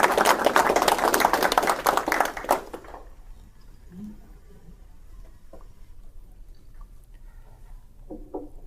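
An audience bursts into warm applause to welcome speakers at a pro-life talk, dense clapping for a few seconds that quickly dies away into a quiet room with scattered small noises.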